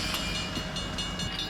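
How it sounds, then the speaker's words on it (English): An old revived passenger train of the Grand Canyon Railroad rumbling along the tracks, a steady close rolling roar with faint rhythmic clatter throughout. "It's a wonderful old train that they have revived, the Grand Canyon Railroad."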